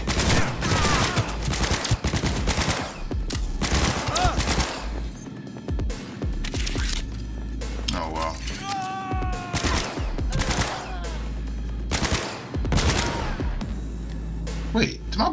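Explosive-bullet gunfire in Cyberpunk 2077 sounds as loud, dense bursts of shots and crackling blasts that run almost without a break. Someone talks now and then over the din.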